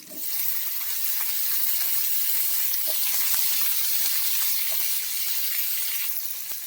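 Onion and tomato sauté in a little oil in a pan for fish curry, producing a steady, even sizzling hiss that runs unbroken throughout at moderate loudness, with no voices.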